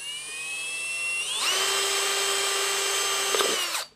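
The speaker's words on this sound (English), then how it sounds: "I'm going to drill some holes in it," A power drill with a blunt bit whines up close while drilling holes in plastic, its pitch jumping higher as it bites in, then winds down and stops abruptly after a few seconds.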